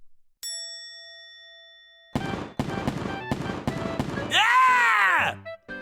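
Fireworks set off by kids go off in an anime dub as a run of sharp bursts and crackles, ending in a loud whooshing, swirling blast, with a clear ding tone early on and no talk over it.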